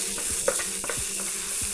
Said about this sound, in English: Keep stirring for about 30 seconds